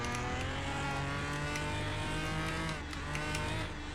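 Race car on race tires and new suspension in the Car Mechanic video game, its engine holding a steady high-pitched whine at high speed before a brief dip in revs near the end, loud and continuous, with no talking.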